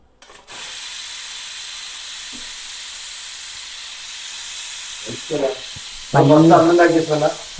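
Steam hissing out of a freshly opened pot of bone soup, a steady loud rush that begins abruptly and carries on, with a voice speaking over it toward the end.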